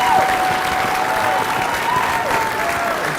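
A graduation audience applauds, a dense, steady wash of many hands clapping in a large room, with a faint tone running underneath.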